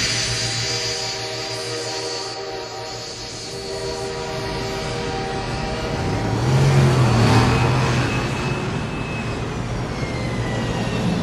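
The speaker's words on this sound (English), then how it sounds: "the film begins with the sounds of the aforementioned planes, trains and automobiles" Engines drone continuously with a low vehicle rumble and passing roar, blending aircraft, train and car sounds into a steady layered din that swells midway, from the opening of the film Planes, Trains & Automobiles.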